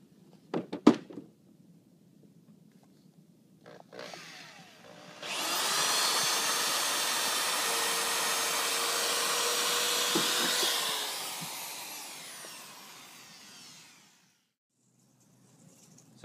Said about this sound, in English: So I've drilled my holes